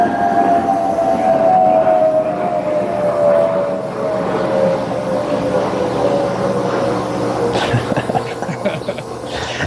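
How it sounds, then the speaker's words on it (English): An airplane passes overhead outdoors as a continuous broadband roar with a slowly falling tonal whine that persists at moderate level throughout, and a brief clatter near the end. "I don't know if you could hear the airplane flying overhead."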